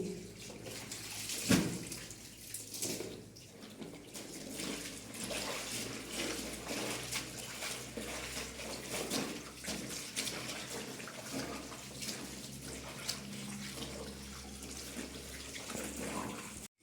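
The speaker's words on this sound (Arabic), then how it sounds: "كيضيع الماء، حيت كنعمرو البانيو بالماء" A bathtub filling with water from a tap: a steady, close, continuous gush and splash that runs throughout without pause, with no speech.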